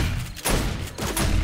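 Gunfire in the zombie survival game 7 Days to Die, a dense burst of shots with a brief dip partway through, loud and close with no talk over it.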